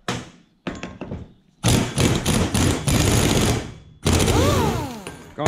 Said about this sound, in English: While I've got my rattle gun going